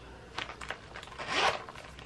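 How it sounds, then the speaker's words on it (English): Zipper being pulled on a Coach leather bag, a few short rasping tugs followed by one longer, louder zip near the end, close and alone with no talk. "zipper closure"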